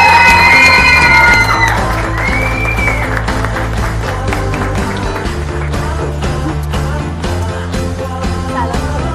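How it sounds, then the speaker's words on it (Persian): A studio crowd of fans screams and cheers loudly and continuously for a handsome singer on a Persian music talk show, the shrill shrieks sustained throughout. "طرفدارش اونجا الان جیغ میزنن واسمون."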